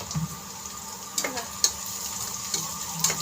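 Browned onion frying in a pan gives a soft continuous sizzle, broken by a few light ticks and scrapes of a stirring spoon.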